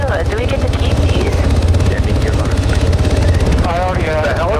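A video game helicopter's rotor thumps steadily and loudly throughout, with engine drone and scattered game effects layered over the beat.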